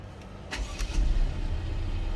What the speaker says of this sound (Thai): สตาร์ติดใช้งานได้เหมือนเดิมนะครับ